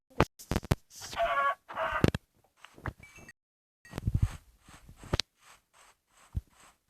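Several short clucks and squawks from chickens in Minecraft come in scattered bursts with brief gaps, fairly close and moderately loud, with no one talking.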